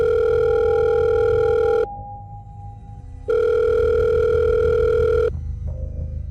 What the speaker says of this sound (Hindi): पॉकेट में रखा उसका फ़ोन दोबारा बजा।